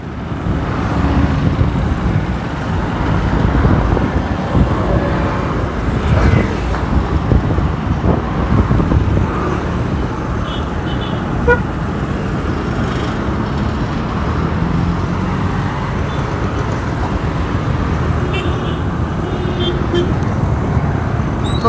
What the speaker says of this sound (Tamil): முன்னாடிலாம் லைட்டாக டிராஃபிக்காக இருக்குது, அதனால ஸ்லோவாக போயிட்டுருக்கோம்